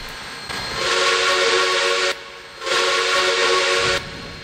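A running steam locomotive gives two long, loud bursts of steam and whistle-like hissing, with a short quieter gap between them.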